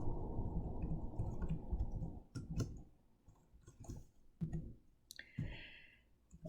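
Calculator buttons are pressed to enter a formula, several small plastic clicks spaced apart after a stretch of low rumbling background noise.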